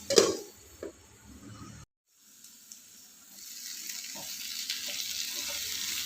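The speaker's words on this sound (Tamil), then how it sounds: "பாருங்கள் இப்படியே சிம்லேயே இருந்து நல்லா வறுபடட்டும்" Elephant foot yam sizzles gently in oil over a low flame, with a few clinks at the start, a momentary drop in sound, then a soft, steady frying hiss that slowly builds.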